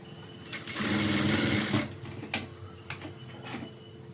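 A sewing machine stitches along the top edge of a blouse, a dense whirring burst of rapid needle strokes running about a second, then shorter stop-start stitches trailing off.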